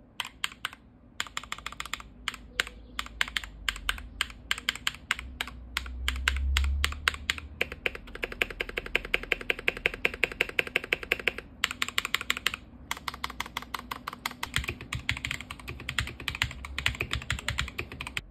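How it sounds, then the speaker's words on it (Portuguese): Fast, steady typing on a Machenike K500 keyboard fitted with Valorant keycaps, its keys clacking crisply and close up in dense runs with a few brief pauses. "E esse é o novo som do teclado."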